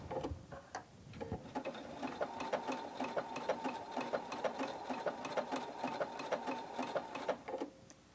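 A Husqvarna Viking Topaz sewing machine sews a blanket stitch for machine appliqué, a quiet, rapid mechanical clatter of needle strokes with brief pauses where the fabric pivots, close and with no voices.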